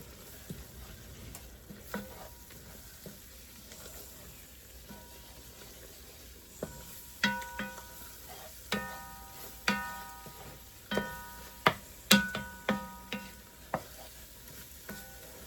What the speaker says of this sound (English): Just cook that flour down for a couple minutes.